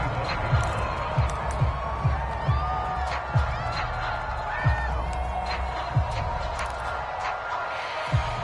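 Stadium crowd in a football video game after a touchdown, a steady broad roar of cheering fans beneath repeated thumping footfall-like beats, with a commentator's voice heard over it.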